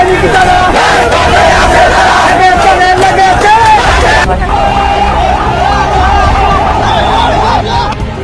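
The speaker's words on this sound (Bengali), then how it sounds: "নানান ধরনের স্লোগান দিচ্ছেন" A large crowd of protesters in Bangladesh, many holding national flags, banners and placards, chants slogans loudly and continuously in unison, with rhythmic shouted phrases rising and falling over steady crowd noise.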